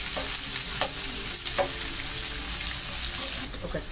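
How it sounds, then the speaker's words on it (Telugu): Onions frying in hot oil with curry leaves, stirred in a pan while making kakarakaya ellipaya karam: steady loud sizzling with repeated scraping strokes of the spoon throughout. "ఆనియన్స్ కొంచెం సేపు ఆయిల్లో ఫ్రై అవ్వనివ్వండి"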